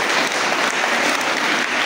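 Steady, dense applause from an audience at a Sunday school children's drama and culture competition, continuous clapping throughout the short stretch.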